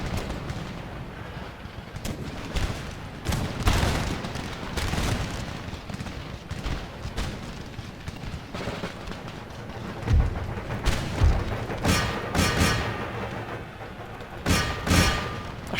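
Musket volleys and cannon fire in Empire: Total War roll across the battlefield as repeated thumping booms and crackling bursts, some heavier shots near the end, loud and continuous with no talk over them.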